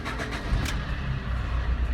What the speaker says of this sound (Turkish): Arabamızı da çalıştıralım.